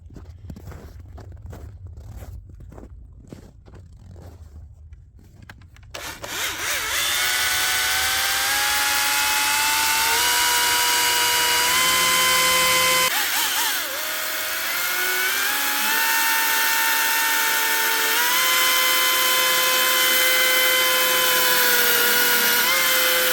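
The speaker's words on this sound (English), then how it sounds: "Tell you what, it's my little electric chainsaw." A small Husqvarna electric chainsaw whirs up after a few seconds of quiet handling noises, then runs loudly and steadily through a log for a log cabin, its pitch dipping as it bites.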